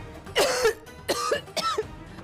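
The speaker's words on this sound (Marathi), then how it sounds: "खोकलाच थांबत नाही हो आईंचा" Three harsh coughs in quick succession, close and loud, with short pauses between them and no talking.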